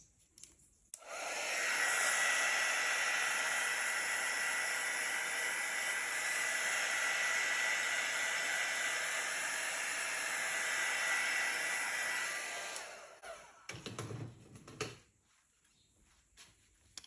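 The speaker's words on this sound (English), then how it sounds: "I'll hit it with the heat embossing tool just to see if it brings up any different cells" A heat embossing tool blows hot air over poured acrylic paint in a steady hissing roar that lasts about eleven seconds and then cuts off. A few faint handling noises follow.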